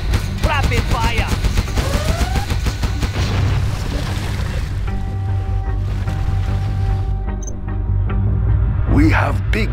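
Rapid gunfire and booming explosions in the video game Command and Conquer Generals, loud and dense at first over a low rumble, then easing into a humming drone with sporadic bursts, with game voice lines over it.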